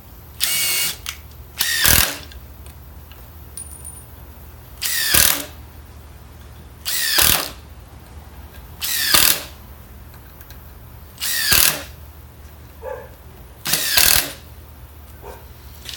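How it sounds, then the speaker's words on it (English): A Makita impact driver drives a screw in a series of loud, short rattling hammering bursts, about seven, each lasting under a second and separated by quiet pauses. "I'm going to use the same bit on the Makita and see what the speed difference is"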